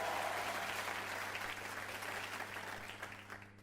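Studio audience applause on a French television game show, a steady wash of clapping that holds throughout and fades slightly toward the end.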